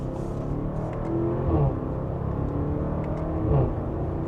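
A steady low engine rumble with a throaty sport exhaust note from a 2025 Audi SQ7 SUV, swelling slightly twice under mild acceleration, heard from inside or close by.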